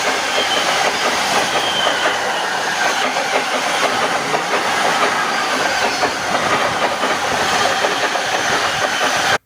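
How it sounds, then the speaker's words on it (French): A freight train passes close by, its loud continuous rumble carrying rhythmic clickety-clack from the wheels and a faint squealing hiss, sustained throughout before cutting off sharply at the end. "Ah, je reconnais pas c'est quoi comme train."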